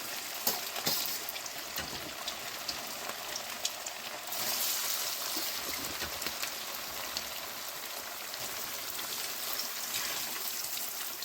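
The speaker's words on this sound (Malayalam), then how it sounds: "മീൻ വറുത്തെടുക്കുക" Steady, dense sizzling and crackling of fish frying in hot oil, continuous and close, with no voices.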